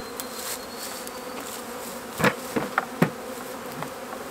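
A rescued honeybee colony in a hollow tree hums with faint, steady buzzing, with a few louder close buzzes and light knocks from handling the comb toward the end.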